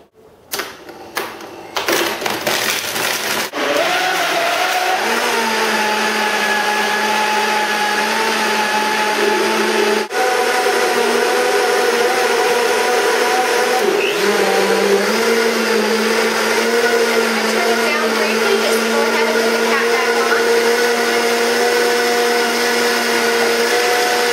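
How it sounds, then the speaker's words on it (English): Blender running on high, pureeing an energy drink with ice, starts with several rough clattering bursts, then settles into a loud, steady whine that shifts pitch partway through as the mixture smooths out. "We're going to start out on turning the machine on from 1 to 10, flipping it on to high to make sure that it purees thoroughly."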